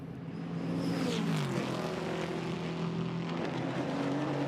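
GT4 race cars roar past at Paul Ricard with layered engine notes rising and dropping in pitch as they pass, loud and close, with distant commentary faintly underneath.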